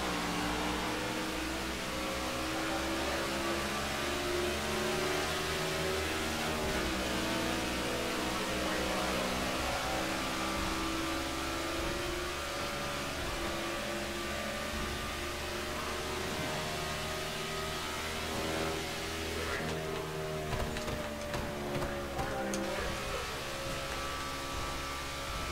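Stock cars racing at Charlotte Motor Speedway in the NASCAR '15 video game make a dense, continuous engine drone with layered pitch shifts as the pack runs, loud and unbroken throughout with no talk.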